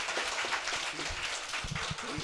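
An audience at a youth talk concert with an industrial designer gives brief applause, a short burst of dense clapping from the crowd.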